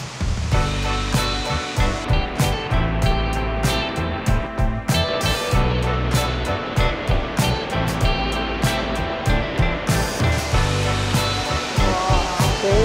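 Waterfall in the Wulai mountains of Taiwan, a steady loud rush of falling water that fills the whole stretch without pause, with no voices over it.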